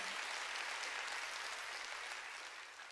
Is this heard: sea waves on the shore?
no